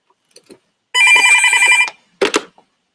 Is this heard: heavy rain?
no